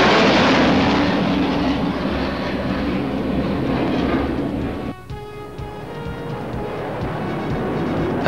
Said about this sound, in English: These Mirages will now attack a simulated runway as their ground target